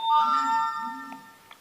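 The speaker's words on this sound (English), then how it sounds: "That's the notification to say that I've signed in." A Samsung Note 8 phone plays a notification chime after sign-in, a clear bright melodic tone that rings out and fades, followed by a couple of faint soft taps.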